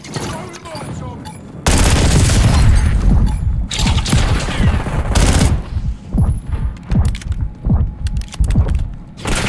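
Heavy video game gunfire in a battle royale firefight, with dense automatic bursts and booming impacts loud and close, thinning into rhythmic single shots near the end; a Molotov cocktail is thrown.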